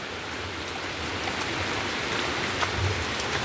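Rain falls on a street in St Thomas, a steady, even hiss of drops on hard surfaces, close and continuous, with no talk.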